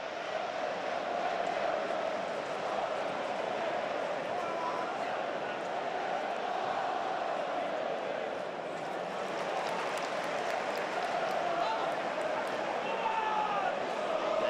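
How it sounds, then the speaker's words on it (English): A football stadium crowd at a Sunderland versus Rotherham match roars in a continuous, broad wash of noise, with commentary voices over it. "can hear the crowd around us now"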